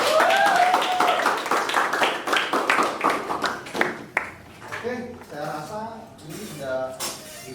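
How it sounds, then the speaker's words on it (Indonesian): Audience clapping for a participant during a teaching session, a burst of quick claps over the first few seconds that fades while talking continues over it. "tepuk tangan buat Mas Adi"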